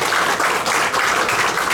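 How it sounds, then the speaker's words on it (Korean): A lecture audience at a Hwaseong cultural center academic conference applauds, a dense, steady wash of many hands clapping at close range throughout. "다시 한번 박수 부탁드리면서"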